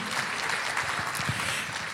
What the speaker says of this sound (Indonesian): Tepuk tangan yang pantas bagi Tuhan.